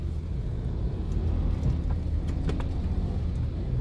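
Steady road traffic on EDSA in Quezon City, a continuous low rumble of cars and engines close by, with a few brief higher clicks and rattles over the drone; nobody speaks.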